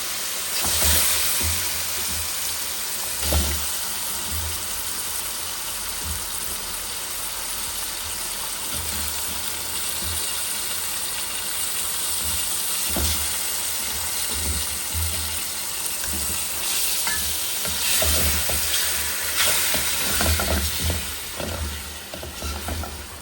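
Chicken pieces frying in cooked spice paste for a Bangladeshi chicken curry with potato and papaya, a loud continuous sizzle with repeated stirring scrapes, close and steady throughout.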